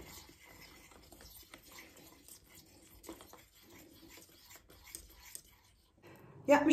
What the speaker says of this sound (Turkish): Şimdi şöyle 50 gram kadar çikolatam var. Onları da içine atıp eriyene kadar karıştıracağım.